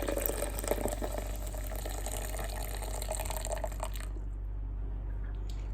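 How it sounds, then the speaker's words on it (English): Coffee pours into a Magic Bullet blender cup while butter coffee is made in a tiny house kitchen, a soft continuous liquid trickle over a low steady hum that cuts off partway through. "And then you pour it into the magic bullet."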